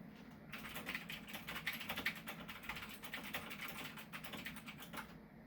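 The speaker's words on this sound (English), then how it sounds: "it is no secret that this is not a quiet keyboard by any means" A Razer BlackWidow Chroma V2 mechanical keyboard is typed on steadily, with rapid clicky keystrokes heard from about 6 to 8 feet away, quiet and continuous until a brief pause at the end.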